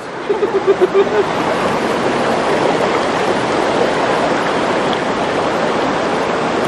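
Strong water current rushing at Verdivia Falls in Bulacan after Typhoon Ulysses, a loud, steady roar of churning water that fills the whole clip, with a brief voice near the start.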